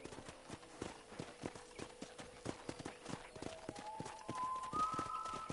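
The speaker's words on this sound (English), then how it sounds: "let's see if you can still ride a horse" Horse hooves clip-clop at a steady galloping rhythm in the Red Dead Redemption video game, quiet and regular, with a rising tone entering toward the end.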